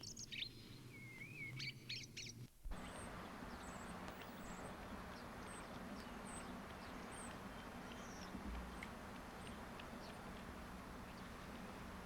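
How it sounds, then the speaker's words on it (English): Migrating starlings roosting on high-voltage power lines give faint, scattered chirps and whistles over a low steady background hum, with a brief burst of closer calls at the start. "migrating starlings, oblivious of the high voltage, have found a roost for the night"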